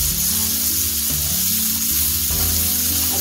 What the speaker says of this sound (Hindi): प्याज डालने के बाद अच्छे से इसको सोटे कर लें